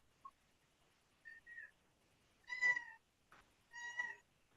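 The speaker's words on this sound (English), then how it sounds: "I hear a cat." A house cat meows indoors during an online call, two clear meows with a couple of softer chirping calls before them, fairly close and with nothing else around.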